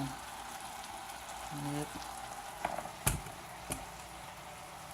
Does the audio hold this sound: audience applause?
no